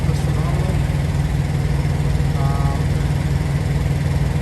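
A truck engine idles with a steady low rumble throughout, with brief faint talk in the background.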